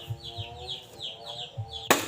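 Chickens cluck in short repeated calls nearby, with a sharp knock or chop sound right at the end.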